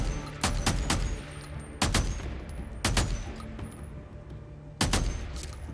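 Gunfire in the zombie survival game Days Gone: five sharp, loud shots spaced irregularly over several seconds, each with a short decaying tail over a rumbling game ambience, no talk.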